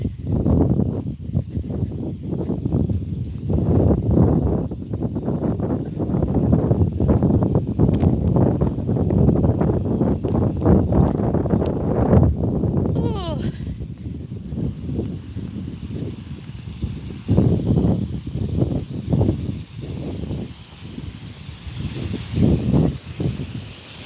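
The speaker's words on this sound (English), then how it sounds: "Hopefully you guys can hear me over the wind. I know it is real windy." Strong wind gusts batter the microphone in an open small-town spot outdoors, a loud, continuous roaring rumble that surges and eases in waves for the whole stretch, with no voice heard over it.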